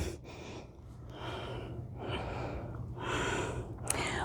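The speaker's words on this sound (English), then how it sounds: "Steady Ujjayi breathing here." Slow, steady Ujjayi breaths during a yoga class, each long audible breath with a soft throaty hiss, three or four cycles in a row, close and moderately loud with no talking.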